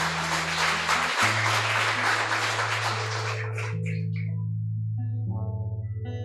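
A church congregation at a Sunday family service applauds, a broad wash of clapping running for about three seconds over sustained organ or keyboard notes, which carry on alone after the clapping fades.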